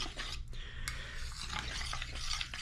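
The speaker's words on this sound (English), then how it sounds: "One more nice big stir to get everything completely uniform and married together." A spoon scrapes and swirls through thickening gravy in a pot for biscuits and gravy, a short close burst of steady stirring with a faint sizzle underneath.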